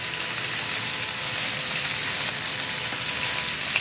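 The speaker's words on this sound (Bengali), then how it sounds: "এখানে ইলিশ মাছটা ভাজতে দিয়ে দিয়েছি, পাশাপাশি পমফ্রেট মাছটাও ভাজা হচ্ছে" Hilsa and pomfret fish fry side by side in oil, a soft, continuous sizzle heard close and steady with no talking.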